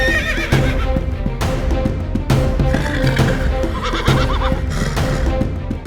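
Horses whinny and neigh repeatedly amid hoof clatter during pasola, a mounted javelin-throwing contest with teams aiming at a banana trunk target, with several loud calls over a steady busy background.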